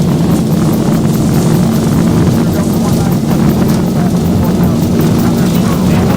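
Airliner jet engines roar at takeoff thrust in the X-Plane flight simulator during the Bahamasair departure from Freeport, a loud steady broadband roar with a low hum running throughout.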